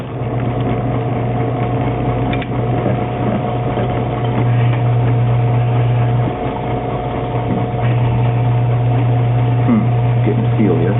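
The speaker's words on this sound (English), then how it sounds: "We turn on the vacuum machine." A vacuum casting machine for jewelry flasks runs with a steady, even mechanical drone and a low hum, constant and close throughout.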